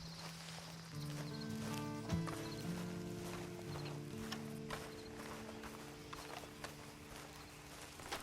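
Horse hooves clip-clop steadily in Red Dead Redemption 2, a soft walking rhythm under a sustained low musical drone, moderately faint and without speech.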